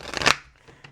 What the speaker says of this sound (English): I don't know why this deck won't shuffle.